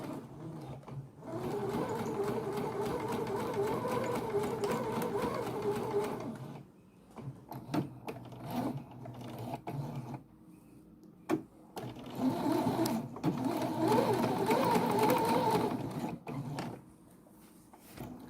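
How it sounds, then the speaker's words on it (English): A sewing machine stitches through fusible interfacing and seam allowance in a garment repair. Its close rattling runs come in several stretches broken by pauses and small handling clicks. "I'm stitching through it more than once and in different locations"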